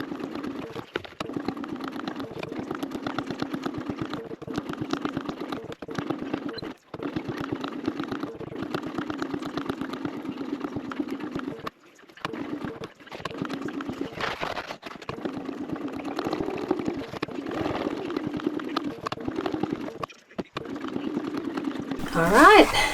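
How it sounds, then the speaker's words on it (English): A sewing machine top stitches a backpack strap in long continuous runs of steady, fairly loud mechanical hum, broken by brief pauses between passes, with a voice talking at times over it. "back to the machine. We're going to top stitch 1/8 of an inch around and then 1/4 of an inch around"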